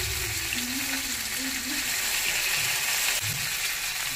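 Fish fries in masala over a medium flame, a steady close hiss and crackle of hot oil running continuously with faint low scraping and bubbling underneath.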